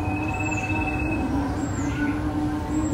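A passenger train running past tea gardens near Srimangal, heard from inside with a constant rolling rumble, a high steady wheel whine and brief squeals, close and continuous.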